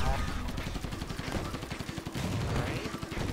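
Rocket weapon fire in the video game Assault Android Cactus comes as a rapid stream of thudding shots and blasts, a dense, continuous barrage heard up close.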